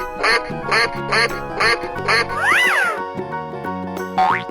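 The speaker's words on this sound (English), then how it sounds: "Duck." Duck quacks in an animal video game, a regular series of five loud, nasal quacks followed by a sliding synthetic tone and a final rising call, close and clear with backing game tones and no talk.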